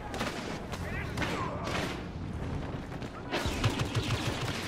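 Blaster fire in a Star Wars Battlefront battle, bursts of rapid shots layered over busy combat noise, with voices talking in the mix.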